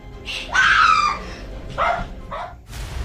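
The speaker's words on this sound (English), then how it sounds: "her dogs barked loudly" Several loud, yelping dog barks in quick bursts, high and shrill, with short pauses between them and a scream-like edge.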